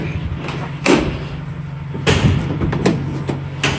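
The heavy metal rear swing-out doors of a 2017 Ford Transit T-250 cargo van clunk and latch several times close by, sharp thuds and rattles spaced over a low steady engine-like hum.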